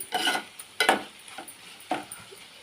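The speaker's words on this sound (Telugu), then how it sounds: "టమాటాలు మగ్గనిద్దాం కాసేపు" Tomatoes cooking in a pan as a utensil stirs them, a few short scraping strokes over a low sizzle, close up with no voices.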